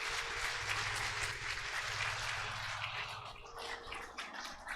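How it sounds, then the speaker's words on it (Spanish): Broad, steady clapping from a church congregation, fairly distant and continuous for several seconds, with a faint low hum underneath. "Vamos a aplaudirlo."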